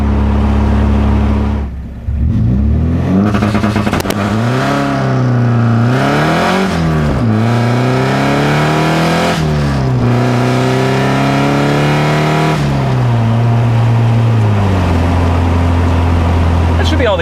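Car engine with a revised coil-on-plug ignition revving hard, rising and falling through repeated throttle blips in a driveway, loud and close, with an engine note sweeping up and down over several seconds.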